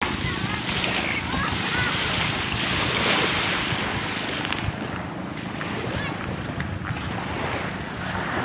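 A broken-down diesel boat sits on choppy water near Subic, with steady wave wash and heavy wind buffeting the microphone throughout, constant and loud.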